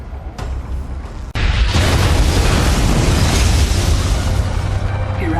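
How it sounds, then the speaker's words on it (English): An Eradicator blowing up in a StarCraft II cinematic: a quiet hum gives way to a sudden loud blast that becomes a sustained, roaring rumble of debris. "Eradicator destroyed."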